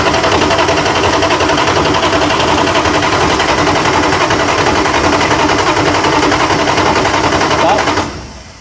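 1968 Dodge Charger engine cranking steadily for about eight seconds, a loud rapid mechanical chatter that cuts off abruptly at the end.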